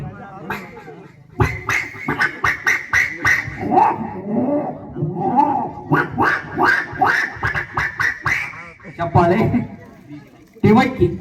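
A voice mimics a duck with a rapid string of nasal quacking sounds, broken by pauses and mixed with ordinary talking.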